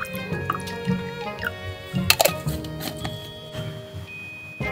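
Hot water poured into Iichiko shochu at a seaside solo campsite, heard as close, wet trickling and dripping with a few splashy bursts, over soft outdoor background noise.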